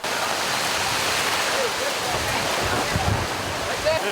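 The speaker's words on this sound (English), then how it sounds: "Lightning, hail, storm, wind, rain, tornadoes, all at the same time." A Montana storm of driving rain and wind, a loud, dense, steady roar of downpour filling the scene with faint voices beneath it.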